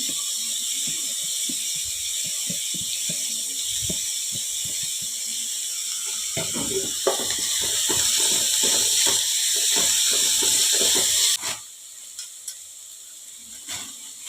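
Green peas paratha filling sizzling and frying in a pan, a steady hiss with scattered clicks and scraping stirs, growing busier midway before stirring clatter takes over near the end.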